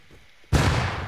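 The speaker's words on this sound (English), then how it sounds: "Oh, he's chucking nades!" A grenade explodes in Rust console edition, a sudden loud close blast that cuts through quiet and leaves a rumbling roar.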